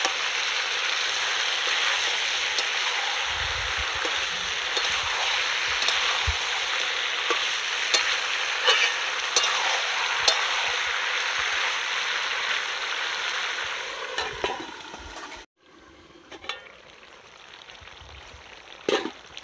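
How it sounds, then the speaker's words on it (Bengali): Chopped tomatoes stir-fried in a pan for a village-style country chicken curry give off a continuous close sizzle with scattered clicks of stirring, no talking, briefly dropping out near the end before the frying resumes. "এবার আমি কুচনো টমেটো এর মধ্যে দিয়ে দেব। দিয়ে ভালো করে কষাতে হবে।"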